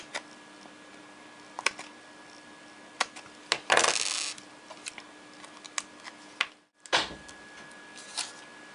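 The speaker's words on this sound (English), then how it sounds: "I'm going to need my scissors, which are buried underneath my ribbon here, just to cut off a couple of small pieces for the bottom layer" Scissors snipping small pieces of paper for a tag, scattered faint clicks and snips with a short rustling burst and a few crisper cuts in a quiet room.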